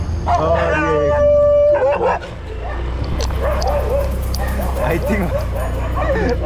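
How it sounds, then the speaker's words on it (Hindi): Several dogs bark, yip and howl close by, with one drawn-out howl early on and then a steady scatter of barks. People speak over the dogs throughout. "Dog attack, we are being followed by dogs."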